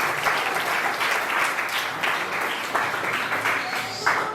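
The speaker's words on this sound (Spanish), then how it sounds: "Un aplauso para sus palabras." Audience applause at a cultural talk about Yanga, Mexico: steady, dense clapping from a room full of people, fairly close and even in level for the whole stretch, with a few sharper individual claps standing out.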